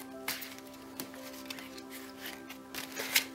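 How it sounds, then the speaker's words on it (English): A deck of tarot cards is shuffled with soft riffling and rubbing, a few brief snaps, close by over a faint steady hum. "And we're just going to shuffle the deck a little"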